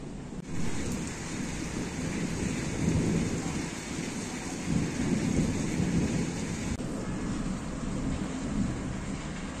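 Steady rain falls outside while thunder rumbles low and long through it, a continuous soft wash of rain with rolling, swelling thunder, fairly quiet and with no talking.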